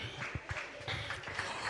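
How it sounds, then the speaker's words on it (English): Applause from a live storytelling show audience, a short burst of clapping with some broadband crowd noise, moderately faint and steady without clear individual claps. "another round of applause for Koku."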